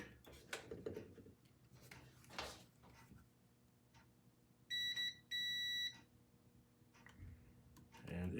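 Two short, high electronic beeps from a multimeter in continuity mode, tested on the thermal fuse of a broken shop vac. They come amid faint clicks and handling noise in a quiet room.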